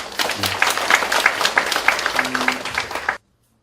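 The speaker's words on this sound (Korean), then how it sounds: "좋은 말씀 해주신 우리 위원장님께 큰 박수 부탁드립니다." An audience at a Korean community welfare council gathering gives a round of applause, a brisk, dense clatter of many hands lasting about three seconds before cutting off abruptly into silence.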